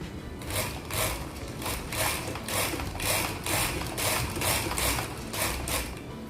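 A sewing machine stitches a gamis in slow, regular bursts of rapid mechanical clatter, close and steady, about a dozen pulses repeating evenly over a low background hum.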